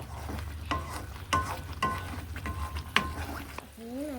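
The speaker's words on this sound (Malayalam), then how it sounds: "ഇത് നല്ലതുപോലെ ഇളക്കണം ഈ പാത്രത്തിൽ നിന്ന് വിട്ട് വരുന്നത് വരെ ഇളക്കണം" Thick papaya halwa stirred in a pan gives soft, sticky scraping strokes and light taps of the spoon at an even pace, close but fairly quiet, with a brief tonal sound right at the end.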